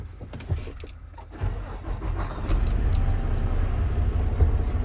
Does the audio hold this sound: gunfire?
no